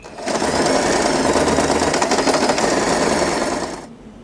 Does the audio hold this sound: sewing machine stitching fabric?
yes